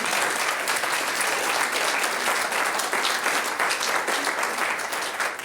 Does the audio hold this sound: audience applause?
yes